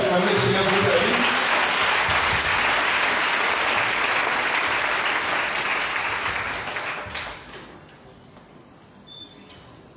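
A church congregation applauds to acclaim the Lord, with dense, steady clapping that holds strong for about seven seconds, then fades to a few scattered claps.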